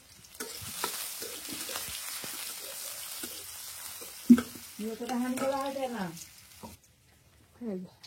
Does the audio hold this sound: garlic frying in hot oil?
yes